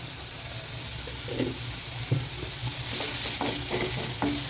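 Onions for idli podimas sauté in a pan with a soft, steady sizzle, broken by a handful of light scraping stirs and taps toward the end, fairly quiet and without talk.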